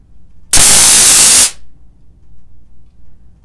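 A tactical torch stun flashlight fires one loud, harsh electric crackle that lasts about a second, then cuts off to quiet room background.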